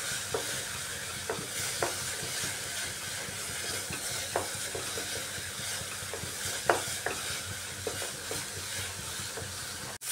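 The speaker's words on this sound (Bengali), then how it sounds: "এভাবে কিছুক্ষণ কষাতে হবে মশলাটাকে।" Spice masala with Kashmiri red chilli powder being sautéed in a kadai: a constant close sizzle broken by repeated scraping stirs of the spoon, with no talking.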